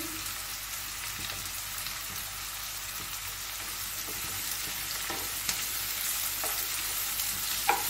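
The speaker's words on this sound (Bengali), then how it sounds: "এবারে ক্যাপসিকামটা দিচ্ছি। লঙ্কাগুলো দিচ্ছি।" Capsicum and chillies sizzle softly in a pan, a continuous quiet frying hiss broken by scattered scraping clicks as they are stirred, close by and with nobody speaking.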